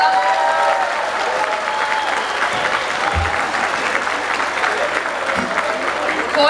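A crowd gives sustained, even applause to welcome a folk dance ensemble at a parish's 50th anniversary celebration, the clapping loud and continuous throughout.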